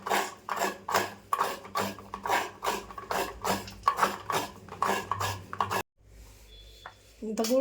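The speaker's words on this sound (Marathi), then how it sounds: "आता गूळ पण कापून घेते" A knife cutting through a block of jaggery, giving a steady series of close, gritty scraping strokes that ends in a brief pause before some quieter handling sounds.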